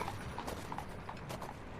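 Horse hooves clip-clop at a steady walking pace on a street, a series of crisp, moderately near hoof strikes over a soft ambient bed, used as an audio drama sound effect.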